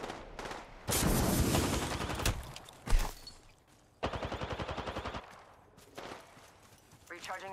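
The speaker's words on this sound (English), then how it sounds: "Getting shot at." Automatic and single-shot gunfire in the battle royale game Apex Legends, loud bursts and rapid volleys in several separate bursts with a heavy crack in the middle.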